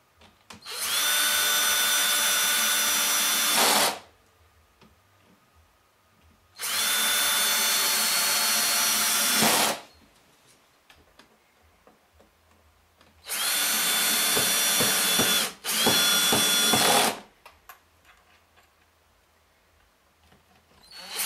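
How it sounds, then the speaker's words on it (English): A power drill set to low torque drives screws into the back panel of a vacuum tube amplifier in four long whirring runs of about three seconds, with quiet pauses between them and no talk. "Keep the drill set at 1 foot-pound."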